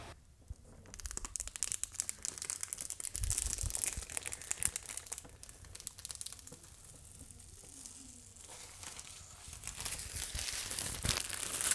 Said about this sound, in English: let's get the juicy, juicy footage of us peeling that plastic